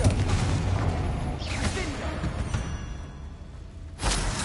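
Confringo blasting spell explosions in Hogwarts Legacy: a loud, booming burst opens the moment, a fainter whooshing rumble trails after it, and a second heavy blast hits near the end.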